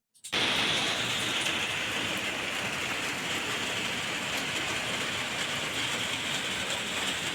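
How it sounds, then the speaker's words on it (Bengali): Heavy rain pours onto a waterlogged street in Digha, a dense, steady roar of falling water that stays loud and unbroken throughout, with no voices. "দেখেছো কত জোরে বৃষ্টি পড়ছে রাস্তায় জলও জমে গেছে"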